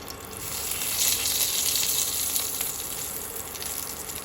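Bay leaves sizzling in hot oil in a wok, a steady close frying hiss that swells slightly and then settles, with no talking.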